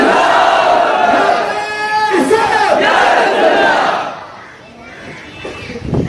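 A large outdoor crowd in Pilkhana, Howrah, West Bengal chanting the Nara-e-Takbir slogan, loud massed voices answering in unison, swelling then fading into murmur.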